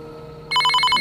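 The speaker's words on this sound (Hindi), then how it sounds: "तभी मोबाइल पर संजू का फ़ोन आया" A mobile phone starts ringing with a bright, rapidly pulsing electronic ringtone that cuts in loud and close over a faint background hum.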